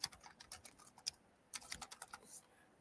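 Someone types an email address on a computer keyboard, a quick run of crisp, close key clicks in short bursts with brief pauses between them, fairly quiet and with no talking.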